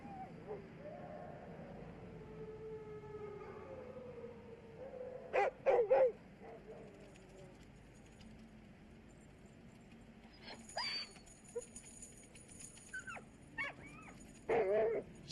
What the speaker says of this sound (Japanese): もう一頭、最後に鎖を切って自由になった犬デリーがいた。